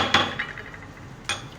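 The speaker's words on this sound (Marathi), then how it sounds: "आलं लसूण ठेचत आहे." Ginger and garlic are crushed for an ulta vada pav filling, giving two dull, solid pounding thuds about a second apart, close by in a quiet kitchen.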